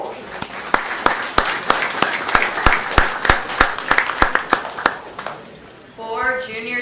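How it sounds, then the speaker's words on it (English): Scattered applause at a junior fair goat show, loud individual claps standing out over a thinner crowd patter, with a voice speaking over a loudspeaker near the end. "Let's give them a nice round of applause."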